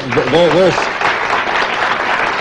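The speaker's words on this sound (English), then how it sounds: "the applause is for your call for more society energy directed at the accommodation of gifted people" An audience applauds steadily at a televised talk, a dense, even wash of clapping that runs throughout. A brief voice sounds near the start.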